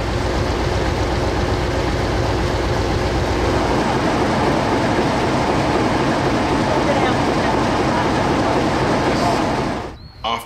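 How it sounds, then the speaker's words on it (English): DE class diesel locomotive DE 1429 hauling a heritage passenger train on the Weka Pass Railway, a loud sustained engine drone with rhythmic wheel and carriage rumble close by, steady throughout before dropping away abruptly at the end. "After departing Glenmark Station, the train heads up the 3 kilometre long straight"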